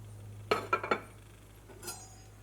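A knife strikes a cutting board four times in quick succession while finely chopping ginger, green chilli and coriander leaves, crisp and close, followed by a faint soft tap in a quiet kitchen.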